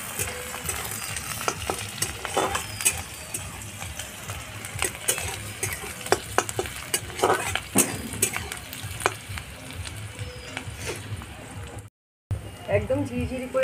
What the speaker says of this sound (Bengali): সাদা তেলে পেঁয়াজ দিয়ে দিলাম